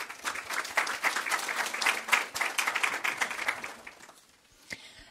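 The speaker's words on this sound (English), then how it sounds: "give her a warm applause" A conference audience applauds warmly to welcome a researcher to the stage, dense clapping that holds steady, then thins out to a few scattered claps and fades near the end.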